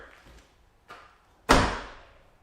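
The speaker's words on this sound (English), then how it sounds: "Now I can close my front door." A car's front door swings shut with one loud, solid slam after a faint earlier knock, the thud ringing out briefly and fading, with no talk over it.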